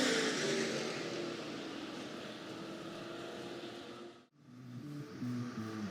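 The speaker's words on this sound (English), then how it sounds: "Stock cars on parade for their Mr. B's Floorings feature event." Stock car engines drone steadily at a clay oval speedway during a feature-event parade, a loud continuous rumble with passing cars briefly fading to a lull before the roar swells back.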